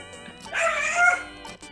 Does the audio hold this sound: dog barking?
yes